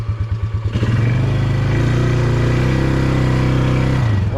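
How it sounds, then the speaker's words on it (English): A Polaris UTV stuck in a mud hole, in four-wheel drive, revs hard after a few chugging idle pulses, its engine holding a loud, strained drone close by before dropping off near the end. "So let's put her in four-wheel drive, see if we can pull out of this."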